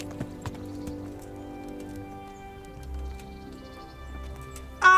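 Rhythmic clip-clop of horse hooves in the medieval video game Kingdom Come: Deliverance, steady moderate footfalls over a low ambient game soundscape, ending with a brief louder burst.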